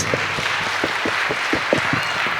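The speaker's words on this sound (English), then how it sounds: "Can I have now once again a big round of applause for the students." An audience applauds the students at a school presentation day, a steady wash of many hands clapping with a few sharper individual claps standing out, continuous and fairly close throughout.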